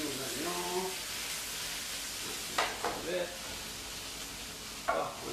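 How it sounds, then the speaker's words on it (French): Onions and red peppers sautéing in a pan for chicken fajitas, a steady sizzle close by with a few sharp stirring scrapes, while someone speaks briefly at the start. "Voilà, on va sauter nos oignons."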